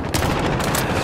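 Rapid, sustained automatic fire from a Stoner gun in a video game, loud and continuous with dense overlapping shots and no pauses.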